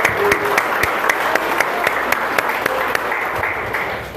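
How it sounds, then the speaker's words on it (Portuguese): A church congregation claps steadily during a worship service, dense applause sustained at an even level throughout, fading slightly at the end. "uma salva de palmas, queridos, para o Senhor"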